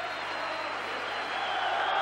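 Football crowd at Parkhead stadium during a Celtic v Dundee match in 1993, a steady, dense roar of cheering and applause that holds at one level for the whole stretch and swells slightly toward the end.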